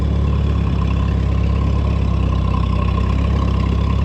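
A late-1960s J.I. Case 730 tractor engine runs steadily at close range, a loud, even low-pitched rumble with no speech.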